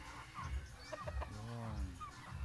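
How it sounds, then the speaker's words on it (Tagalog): Pet chickens at a rural home cluck in short bursts close by, soft and faint, with a voice briefly heard among them. "Ayan po ang alagang manok."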